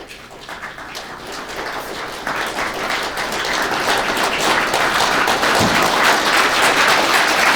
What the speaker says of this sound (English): during this raise, you will clap louder and louder and louder